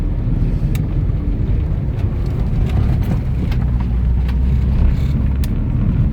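A car creeps slowly in first gear over snow. A low, steady engine rumble continues throughout, mixed with wind buffeting and occasional faint knocks.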